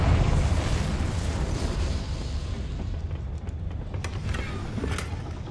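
A Confringo blast spell in Hogwarts Legacy goes off as a sustained, loud, rumbling explosion that roars for several seconds and slowly thins out, with a few sharp crackles near the end.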